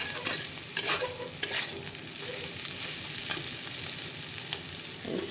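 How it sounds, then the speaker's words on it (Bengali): Potato and cauliflower stir-frying in a pan, a steady sizzle with repeated scraping and stirring strokes throughout, close and fairly loud, no voices. "একটু আলু ফুলকপি ভাজা করে নিলাম।"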